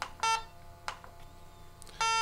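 Repeated shrill electronic alarm beeps from a nearby SENSIT Gold G2 gas detector during calibration, sounding in short bursts with quiet gaps between them.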